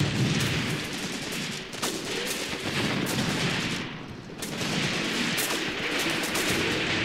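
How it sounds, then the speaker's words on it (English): PPSh submachine gun fire in the Graviteam Tactics Mius Front war game, a dense, continuous crackle of distant battlefield gunfire with overlapping bursts and booms running steadily throughout. "No, they're both firing the PPSH."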